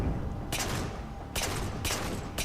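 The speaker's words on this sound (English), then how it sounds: "find an open lane, if you will, to hit him with that plasma pistol" Plasma pistol shots in the video game Halo 4, three bright bursts fired at an uneven pace over steady, loud game ambience.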